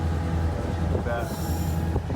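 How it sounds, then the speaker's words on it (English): An old Yugoslav train rumbles along the rails through a wooded mountain landscape, with a low steady roar, rattling clatter and a brief wheel squeal, all heard up close from on board. "This is the craziest train ride I've ever been on."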